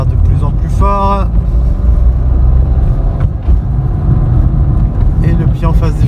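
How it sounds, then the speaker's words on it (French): A car accelerating harder and harder in second gear during a braking and precision-stop driving lesson, its engine a steady loud drone throughout, with speech over it and a brief harmonic tone near the start. "J'accélère de plus en plus fort."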